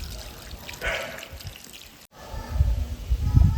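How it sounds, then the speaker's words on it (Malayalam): Water pours into a pot of chopped papaya and onion, a short close splashing trickle with a brief break, then some low knocking from the pot. "ആവശ്യത്തിന് വെള്ളം ഒഴിച്ചു കൊടുത്ത് വേണം വേവിക്കാൻ"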